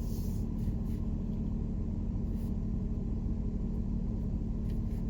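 A car driving over a rough, broken road gives a continuous heavy low rumble from inside the cabin, steady and dominant with no talk.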